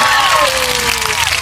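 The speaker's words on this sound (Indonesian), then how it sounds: "Kasih tepuk tangan dulu dong teman-teman." Applause from the audience at a campus talk on democracy, a brief dense patter of clapping heard under a voice with a gliding pitch, close and loud.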